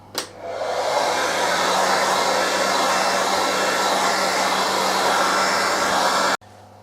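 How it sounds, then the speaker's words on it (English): A hair dryer blows in a steady, loud rush of air for several seconds, drying anti-scale compound coated on knife blades, then cuts off abruptly. "Quick blow with a hairdryer helps speed the process up."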